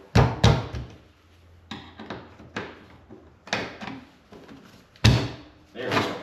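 A door on a Honda EU6500IS generator's housing is worked open and shut, giving several close, hard knocks and thuds with scraping and rattling in between.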